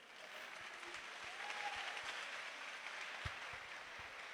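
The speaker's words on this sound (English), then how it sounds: "Let's give her another round of applause" Audience applause at a Ghanaian school science and maths quiz contest, a steady, dense clatter of many hands clapping throughout, moderately distant in a hall with no voices over it.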